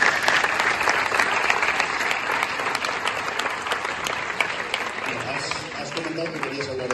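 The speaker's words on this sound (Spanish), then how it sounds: "Aplauso. Venga, aplauso." Studio audience applause after a quiz show answer about a theorem named for a fictional character, dense and sustained clapping that fills the whole span, with a voice talking over it.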